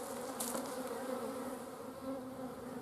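Honey bees buzzing in an opened hive during winter brood management, a dense continuous drone of many insects close by, steady throughout with one brief rustle near the start.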